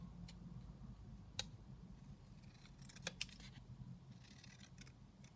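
Scissors snip through fabric pieces in a quiet sewing room, giving soft, close crisp cuts in small irregular clusters over a low background hum.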